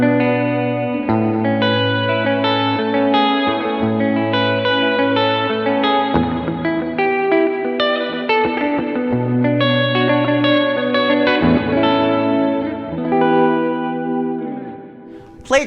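Guitar played through a Matthews Effects Astronomer V2 reverb pedal on its standard Orion setting gives sustained chords with a lush, shimmering reverb tail that swells and lingers between notes, with no talk.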